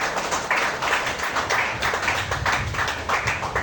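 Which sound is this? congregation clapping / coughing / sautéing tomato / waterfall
congregation clapping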